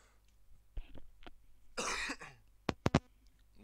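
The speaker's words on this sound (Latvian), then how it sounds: "tas klepus" Coughing close to a microphone: a few short throat sounds, then a harsh drawn-out cough, followed by three quick sharp coughs in a row, indoors with low background hum.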